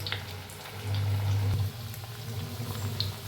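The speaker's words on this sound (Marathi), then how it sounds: "एक एक पीस घेऊन घालायचं असं तेलात तेलात तेवढी घालून घेऊया आपण तेलात" Marinated chicken 65 pieces dropped into hot oil for deep frying, a close, steady sizzle and bubbling crackle with a slightly louder surge partway through.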